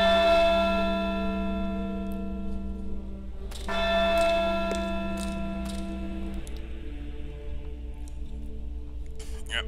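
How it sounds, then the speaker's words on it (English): Bell rung in the video game Syberia 2 at a monastery, two sustained ringing tones with long decaying harmonics, the second strike near the middle cutting over the first, heard alone over a low ambient hum. "we're gonna ring this bell, gets rid of the monk in the cemetery"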